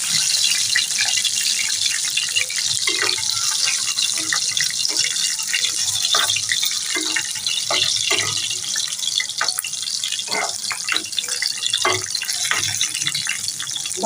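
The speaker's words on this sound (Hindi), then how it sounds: "ये बड़ी मिर्ची डाली है मैंने, इसको हल्का हल्का सा फ्राई करेंगे हम।" Large chillies frying in hot oil for a tadka tempering for dal, a continuous loud sizzle with scattered crackling pops throughout, no voices.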